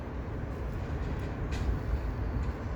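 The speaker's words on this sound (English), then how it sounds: "look, there's a tram over there, just leaving" A tram pulling away in a quiet city-centre spot, its low steady rumble rolling on without a break, moderately loud and with no voices over it.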